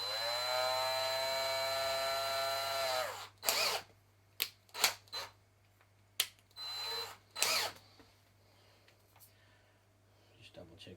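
A power drill bores a hole for lights on a Traxxas TRX-4 monster truck, starting with a long steady whine, then stopping for short bursts and taps, all close by in a quiet room.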